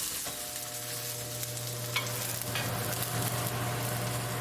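Gobi paratha frying in desi ghee on a hot pan gives a steady, close sizzle with a low continuous hum beneath it, broken by a couple of brief crackles.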